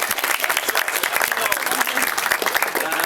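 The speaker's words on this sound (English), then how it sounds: "another round of applause I think for that" Guests at a wedding clap loudly and continuously during the father of the bride's speech, with some voices mixed in under the applause.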